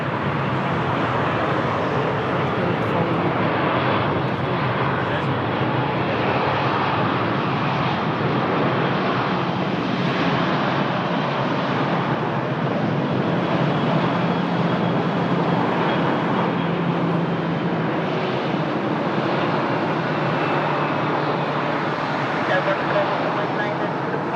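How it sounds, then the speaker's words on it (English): Airbus A320-200 from Geneva at Lisbon Airport, engines giving a broad, sustained rumbling roar that swells and eases slightly over a long stretch, with talk over it. "From Geneva, the Airbus A320 200s"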